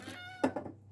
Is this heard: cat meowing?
yes